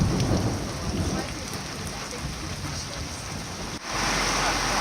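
Heavy rain pours steadily on a hiking trail with a deep rumble of thunder underneath, loud and enveloping, briefly dipping near the end before resuming.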